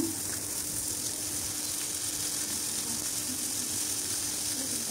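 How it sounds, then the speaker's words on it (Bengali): Fish fries in a pan with a faint, steady hiss of sizzling oil and a low background hum, even and unbroken throughout. "এই তো অপর পাশ উল্টে মাছগুলো ভেজে নিলাম।"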